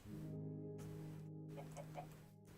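Video-game chickens cluck in a short burst of soft, repeated clucks, fairly faint, with no talking.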